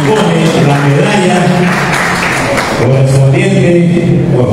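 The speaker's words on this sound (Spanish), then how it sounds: "El aplauso, señoras y señores." Audience at a Peruvian journalists' federation swearing-in ceremony gives sustained applause, a steady dense wash of clapping throughout, fairly loud and continuous, with some background voices underneath.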